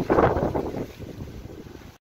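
Outdoor wind buffets the microphone in a loud rumbling gust that fades into a softer, uneven rush over about two seconds, with no talk.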